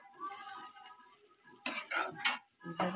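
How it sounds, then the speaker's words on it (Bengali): Potatoes frying in a small amount of oil in a home kitchen pan, with quiet scraping and clinking stir strokes and a faint sizzle underneath. "দেখো আলু ভাজা করছি"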